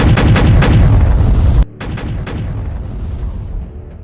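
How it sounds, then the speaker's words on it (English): Cannon broadside from a French frigate in a naval battle game, a dense run of rapid booming shots, loud and close, then a brief gap before further rumbling fire continues at lower intensity. "the center French frigate fires a broadside and is met with overwhelming return fire"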